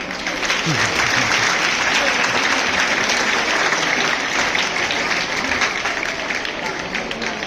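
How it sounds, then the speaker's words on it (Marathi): An audience at a school parents' gathering gives the teachers loud, sustained applause, dense clapping from many hands that holds steady for several seconds. "मला सर्व शिक्षकांसाठी मला एकदा जोरदार टाळ्या पाहिजे"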